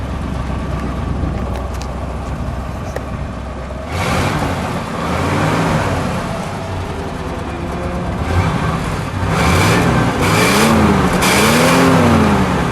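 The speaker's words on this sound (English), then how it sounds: "Let's step on the brakes for a moment, and then let's give it a rev." A 1958 DeSoto Firesweep convertible's V8 engine idles with a low rumble, then revs up several times in rising and falling bursts, loud and close, with no talking.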